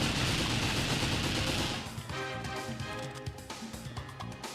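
Gunfire in 007 Nightfire, with a loud hiss and roar that gives way to rapid, evenly spaced shots tapping out in a quick rhythm at moderate volume.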